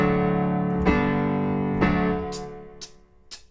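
A few sustained piano chords ring out, changing twice, then fade as short bright notes sound near the end; the intro of a song. No voices.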